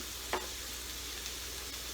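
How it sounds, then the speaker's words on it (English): Onion frying in a pan gives a soft steady sizzle, joined by a brief scrape of stirring early on and faint clinks later, with no talk. "Stirring the onion. The onion needs to be little pinkish."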